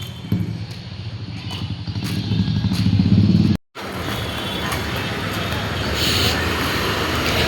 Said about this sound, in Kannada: ಈ ರೋಡಲ್ಲಿ ಎನಿ ಟೈಮ್ ಬ್ಯುಸಿ ಇರುತ್ತೆ.